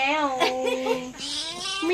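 A cat gives a long, drawn-out, wailing meow close up, followed by a second yowl.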